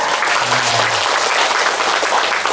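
Audience applause at an Islamic school achievement ceremony in Bantul, a dense, steady wash of clapping filling the whole stretch with no pause, loud and close.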